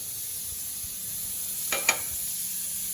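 Beef sausage, standing in for ham, sautéing in a pan for rice with pigeon peas: a faint, steady sizzle with two quick utensil scrapes near the two-second mark.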